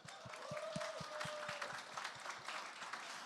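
Gala audience at the Charles Hotel in Cambridge applauds the hotel staff, a steady, fairly faint patter of many hands clapping, with some rhythmic thumping underneath and no talk.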